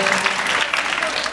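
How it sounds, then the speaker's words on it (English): Audience at a dance competition applauding the dancers, a dense, steady wash of clapping from a large crowd, loud and close, lasting the whole moment. "Can we have a big round of applause for the dancers, please?"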